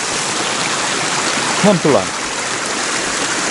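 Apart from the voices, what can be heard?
strong stream of water flowing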